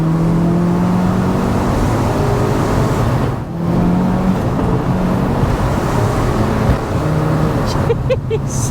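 A Polo GTI AW fitted with a swapped-in 440 bhp Golf R engine accelerates hard and long in third gear, a loud, steady engine roar with brief dips at gear changes, heard from inside the car.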